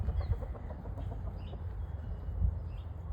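Chickens cluck softly in short, scattered bursts over a low rumbling background, somewhat distant and fairly quiet.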